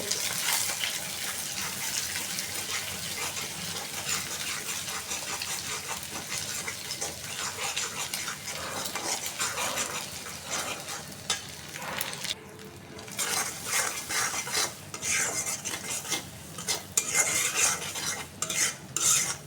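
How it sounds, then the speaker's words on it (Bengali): Egg is stirred and scraped around a hot pan with a utensil while it fries, soft clinking strokes and a faint sizzle continuing at low volume throughout, with brief louder scrapes near the end. "এই যে ডিমটা ভাজা হয়ে গেছে এখন ভাতগুলো দিয়ে দেবো"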